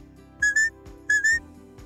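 A shepherd's high, clear whistle sounds in two quick double blasts commanding a border collie working sheep, short and sharp, with a steady low hum underneath.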